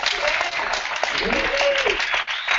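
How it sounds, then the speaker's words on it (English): A brief burst of audience applause at a session of the E-Tourism Africa Summit in Cape Town, with scattered voices and whoops mixed into the clapping. "if you think I am cool, give me a round of applause"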